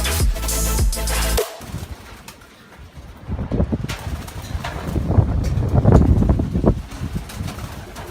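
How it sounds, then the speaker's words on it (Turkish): Gusting wind buffets the microphone in low rumbling bursts at the foothills of the Kaz Mountains, with a pigeon cooing briefly at the start. "Rüzgar çok burada."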